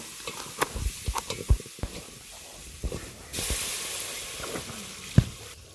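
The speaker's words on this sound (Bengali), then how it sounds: "এখানে রসুন বেশি করে দিয়ে বাগার দেওয়া হয়েছে তারপর পেঁয়াজ কুচি" Garlic and chopped onion frying in oil, a soft hiss and sizzle with scattered clicks and knocks of a utensil, then a louder burst of sizzling partway through and one sharp tap near the end.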